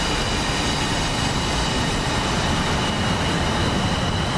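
F-22 Raptor fighter jets taking off in a flight combat video game, a loud, steady, dense roar of jet engine noise that fills the whole clip without letting up.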